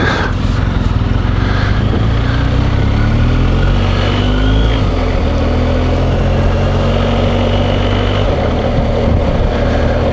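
A motorcycle, either a BMW R1250GSA HP or a Triumph Tiger 1200 XRX, accelerates hard on the road, its engine note rising and dropping through quick-shifter gear changes under steady loud wind rush, close to the rider.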